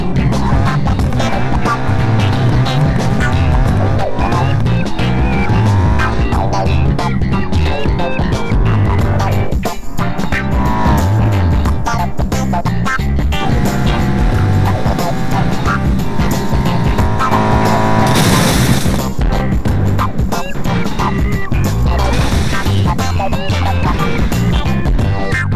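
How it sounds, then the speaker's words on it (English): Simulated cars slam into a bollard at full speed in BeamNG.drive, with loud, continuous engine roar and harsh crash noise over dense game sound that runs the whole time without a break. "Today our cars will crash into the bollard at full speed."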